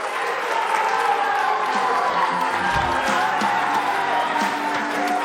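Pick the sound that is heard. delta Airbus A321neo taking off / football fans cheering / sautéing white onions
football fans cheering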